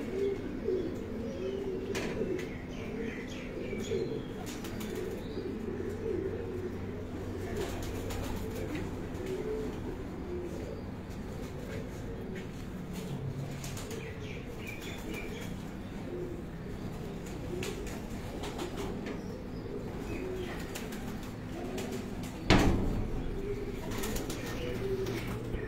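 Racing pigeons at a pigeon sports festival in Gujrat coo steadily throughout, soft and close, with occasional wing flutters and one louder flapping burst near the end.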